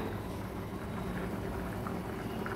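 Fish curry in the Agri Koli style bubbling hard over a high gas flame, a steady, dense boiling hiss and simmer that holds evenly throughout without pauses.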